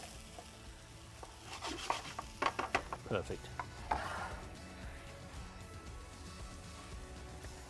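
Vegetables sizzle softly in a pan over a wood fire, a faint steady hiss broken by a cluster of scraping and clinking stirring sounds; a brief spoken word is heard.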